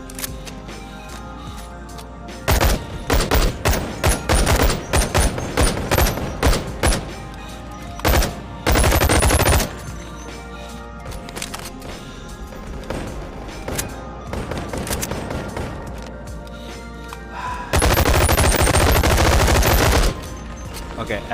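MP9 submachine gun fire in a video game, loud rapid bursts and longer sustained strings of shots with brief gaps between them, standing alone without talk.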